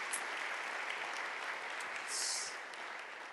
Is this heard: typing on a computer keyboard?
no